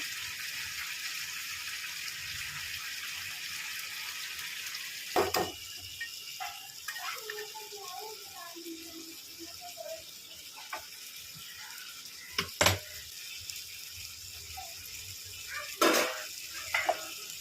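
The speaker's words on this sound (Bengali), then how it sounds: "এই যে আমি এবার জল দিয়ে দেবো।" Water is added to meat frying in a pan, making a loud, spreading sizzle that settles into a softer bubbling hiss, broken by a few sharp clinks of a utensil against the pan.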